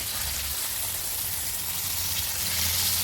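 Tilapia frying in hot oil in a pan, a dense, steady close-up sizzle and crackle with no talking.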